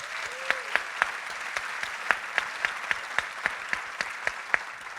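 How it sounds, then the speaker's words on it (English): An audience gives a round of applause at a talk on climate change and activism, with a few distinct close claps standing out over a lighter, scattered patter from the room. "We can have a round of applause for them."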